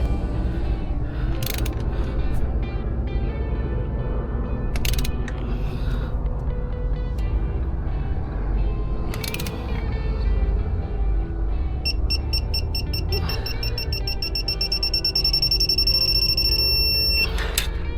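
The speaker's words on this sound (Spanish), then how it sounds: "Esta llave torque digital la ponemos en 60 grados y listo." A digital torque wrench tightening fuel injector bolts on an engine, with a steady mechanical hum and sharp metallic clicks, ending in a rapid repeating electronic beeping from the wrench.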